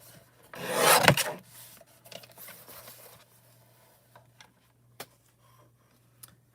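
A rough rasping scrape of Hammermill paper being cut, loudest near the start, then a few quiet ticks and snips in a still room.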